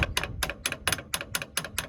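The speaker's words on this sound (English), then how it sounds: "you're just gonna massage it out with a hammer" Hammer knocking on the convertible top frame of a 1963 Lincoln, eight sharp metallic taps in a quick even rhythm, close and clear with nothing else heard.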